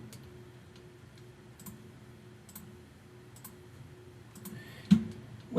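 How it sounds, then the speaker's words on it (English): Sparse computer mouse and keyboard clicks, a few soft ticks spread over a steady low hum, with one louder click near the end. "But for now, it's mouse and keyboard."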